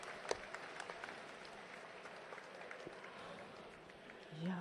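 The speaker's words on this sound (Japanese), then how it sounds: "拍手が鳴り止まない。" Sustained applause from a large crowd at a judo national championship final in Tokyo, steady and distant, with a commentator's voice faintly over it.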